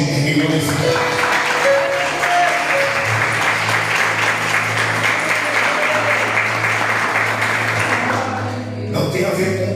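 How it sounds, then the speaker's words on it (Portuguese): A church congregation applauds in steady, sustained clapping throughout, with voices and a low musical drone underneath, before a short dip near the end. "Receba a palavra do Senhor e aplaude e glorifique."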